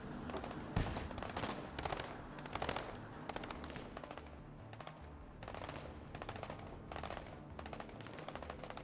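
Sustained gunfire from the video game Broken Arrow, with bursts of automatic weapons and sharp shots popping across a busy battlefield, steady and dense throughout with no voices.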